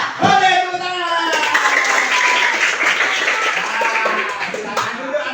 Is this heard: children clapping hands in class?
yes